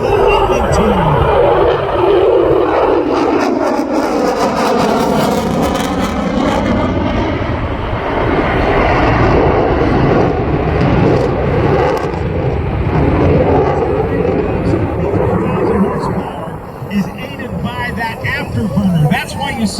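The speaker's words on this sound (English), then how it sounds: "Take a look at your joint strike fighter, the landing team." F-35 joint strike fighter jet passing at about 400 mph and 500 feet at the 2019 Pensacola airshow, a loud continuous engine roar with shifting pitch under a commentator's voice.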